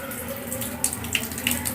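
Water pours and splashes into a container set out for birds at a home, a steady close running-water sound with a few brighter splashes and drips toward the end.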